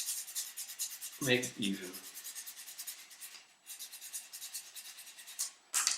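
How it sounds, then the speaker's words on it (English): Rough sandpaper wrapped around a finger rubs a baroque bassoon reed in quick, close scratchy strokes, with a short quiet pause midway and a brief spoken phrase near the start. "So I take this rough sandpaper, put it around my finger and"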